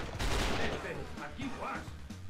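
Shotgun blasts in the video game XIII come as several rapid, punchy shots in quick succession, with an excited voice exclaiming over the gunfire.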